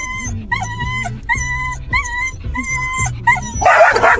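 A Labrador and a French bulldog bark close by in loud, evenly spaced yelps, about seven in a row, followed by a burst of scuffling noise.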